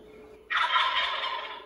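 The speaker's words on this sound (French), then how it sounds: "Le dindon sauvage." A wild turkey gobbles once, a loud rattling call lasting about a second, heard alone without voices.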